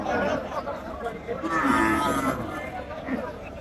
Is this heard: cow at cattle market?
yes